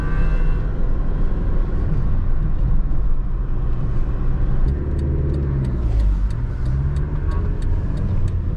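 Steady engine rumble of a Daewoo Lanos car driving off and running on the road, heard from inside the cabin, with continuous low drone and a faint rhythmic ticking later on.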